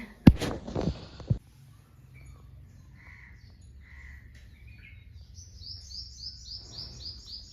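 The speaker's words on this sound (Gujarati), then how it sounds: "તો જો કેવા ચકલા નાય છે ખાબોચિયામાં" Sparrows chirp and tweet in quick repeated bursts after a few sharp splashy knocks as they bathe in a puddle, with a faint steady hum underneath.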